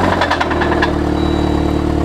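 A damaged Saab car engine with a windowed block, near seizing, runs loud and close with a rough, knocking idle and rapid rhythmic clatter over a steady drone.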